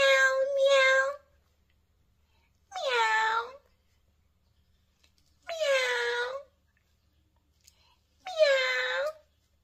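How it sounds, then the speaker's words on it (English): A cat meows four times in clear, drawn-out calls separated by silent gaps, close and fairly loud, with no other sounds. "Meow, meow. Can you meow like a cat?"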